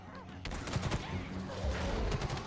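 Rapid bursts of machine gun fire in the video game Halo Infinite, fairly quiet and overlapping in a short, busy volley with other battle noise.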